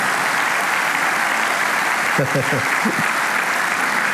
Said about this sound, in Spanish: Así que dale a Dios un aplauso por la Biblia.